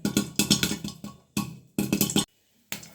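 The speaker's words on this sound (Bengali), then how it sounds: "সবগুলো পুটুর পুটুর করে ফুটতেছে" Corn kernels burst into popcorn in a hot pot, arriving in loud, dense clusters of rapid pops separated by short silent gaps.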